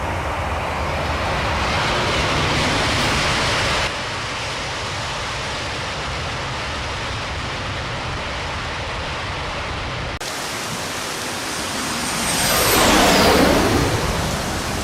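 Singapore Airlines airliner engines spooling at full takeoff thrust, a loud sustained broadband roar that shifts level partway through and swells near the end with a sweeping tone.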